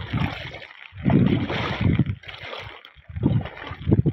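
Knee-deep floodwater in a flooded farm field sloshes and splashes in uneven bursts as someone wades through it, close to the mic with wind buffeting between steps.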